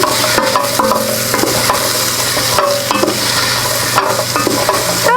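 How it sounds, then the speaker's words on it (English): Celeriac stirred in a pot as it caramelizes over the heat, a steady sizzle with repeated scraping and clattering stir strokes throughout, loud and close with no talking. "quick stir"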